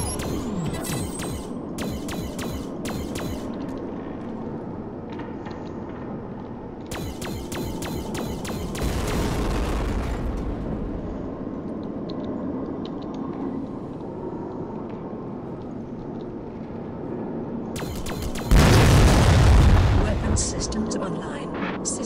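Explosions and weapon fire in the space game Black Prophecy as two unknown objects are destroyed during a weapons calibration test, with rapid shot bursts and loud booming blasts, mixed with game voice announcements.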